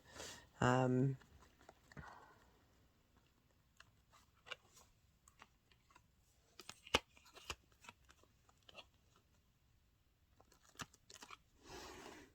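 Tarot cards are handled and shuffled, with soft riffling, taps and slides of the cards across a surface, faint and close, broken by a brief burst of other noise near the start.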